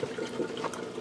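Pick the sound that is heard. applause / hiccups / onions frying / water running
water running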